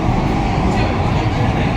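An underground metro train runs with a loud, dense, continuous low rumble and roar, filling the whole stretch without pause.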